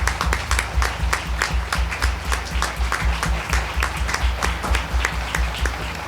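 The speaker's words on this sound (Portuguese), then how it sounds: "Você pode dar um aplauso para aqueles que vão ser batizados?" Church congregation applauding people about to be baptized during a live worship service: dense, steady clapping from many hands throughout, with a low hum underneath and no one speaking.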